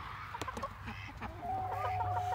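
A disturbed brooding hen clucks in agitated bursts, then settles into a steady low grumbling cluck at close range, with farmyard background noise on a small permaculture smallholding.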